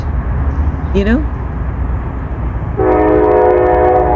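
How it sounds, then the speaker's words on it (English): A loud, sustained train horn blasts close by, starting partway through and holding steady over rumbling background noise, preceded by a short rising whistle-like tone. "You just like that horn from the train."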